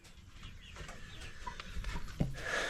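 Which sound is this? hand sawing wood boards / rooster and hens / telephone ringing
rooster and hens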